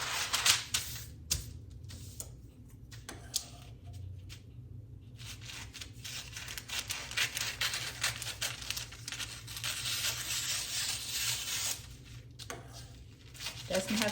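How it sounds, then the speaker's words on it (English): Sheets of parchment paper are snipped and crinkled into squares in a kitchen, giving quick, close scissor cuts and papery rustles in irregular bursts, with some pauses between them. "I'm going to take parchment. We're going to cut these in squares."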